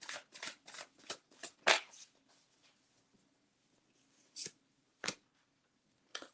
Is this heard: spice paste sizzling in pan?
no